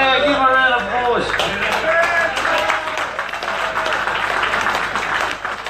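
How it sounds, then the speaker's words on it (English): A crowd applauds a racer at a race-weekend presentation for a racing fuel sponsor, with dense clapping building after a moment and continuing under loud talk and voices nearby. "give him a round of applause"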